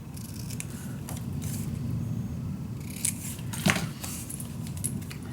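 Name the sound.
cutting paper for a mini album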